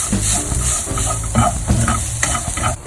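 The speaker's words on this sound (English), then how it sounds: "so beetroots are also getting cooked" Beetroot mixture with peanuts, salt, red chili powder and chopped green chilies sizzles and fries steadily in a pan, with repeated stirring scrapes pulsing through a continuous close hiss.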